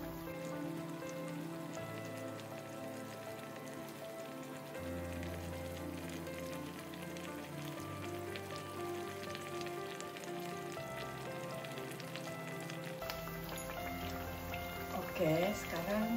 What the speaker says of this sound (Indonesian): Kita masak sampai dia kecoklatan baru kita balik ya.